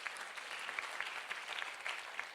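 A congregation at a church service claps loudly on cue, dense steady applause with individual sharp claps standing out, continuing without talk.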